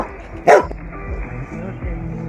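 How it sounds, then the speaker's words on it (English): A dog lets out one sharp, loud bark near the start, followed by a faint, low background. "D for dog,"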